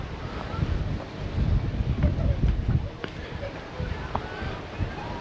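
Gusty coastal wind on the Isle of Wight buffets the microphone in low rumbling bursts, with faint surf-like wash in the background and no clear speech.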